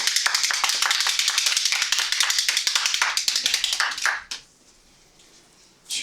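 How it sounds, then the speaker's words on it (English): A room full of people at a Toastmasters meeting bursts into a big round of applause, dense rapid clapping for about four seconds that cuts off abruptly into near silence, with a brief flicker of claps at the end. "Big round of applause."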